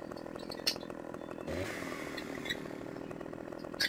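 Chainsaw in Farming Simulator 2015, a faint buzzing engine drone with a brief rise in intensity midway and a few sharp clicks, no talking.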